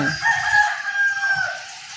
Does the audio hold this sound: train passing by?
no